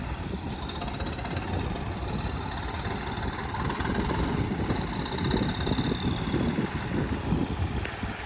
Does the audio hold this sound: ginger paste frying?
no